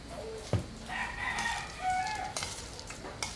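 A rooster crows among a flock of chickens, one fairly clear call with soft clucking and scratching around it and no talk.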